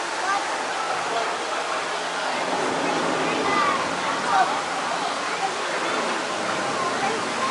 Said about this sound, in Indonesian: Wow, ada air terjun.